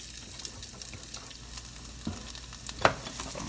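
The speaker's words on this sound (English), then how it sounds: "I'm gonna move them around in the pan just to get it circulating and whatnot, and to get all the oil on it" Onions and peppers fry in oil in a small pan on a small burner, with a soft, steady sizzle and occasional scraping stirs and light clinks as they are moved around.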